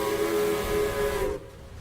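A Thomas and Friends steam locomotive sounds a single long, loud whistle that holds steady, then cuts off abruptly into quiet hiss.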